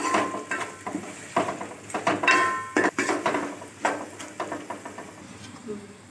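Spatula scraping and knocking against a pan while potato rice with pepper powder and garam masala is mixed, irregular clatters and scrapes, with someone speaking throughout.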